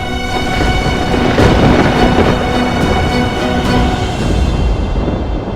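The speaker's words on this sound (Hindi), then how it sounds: "कैलाश गरज रहा है महादेव" A thunderous roar of Mount Kailash in a devotional Ramayan drama: a loud, continuous, dense rumble that holds steady for several seconds with no speech over it.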